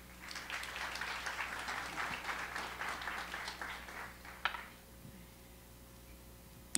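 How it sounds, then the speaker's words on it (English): Warm applause at a memorial service for Sis. Cooky Morales: a few seconds of steady clapping from the congregation that fades out, leaving near silence with a couple of small knocks. "Let's give a warm hand clap."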